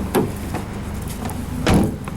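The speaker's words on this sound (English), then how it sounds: "Rear doors sound very solid when you close them." Rear doors of a 2011 Ford Transit Connect van slam shut twice, a solid thud near the start and a louder one about a second and a half later, with a low idle hum underneath.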